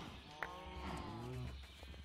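A single drawn-out moo from cows in a video game, low and faint against a soft background hum, with a brief click just before it.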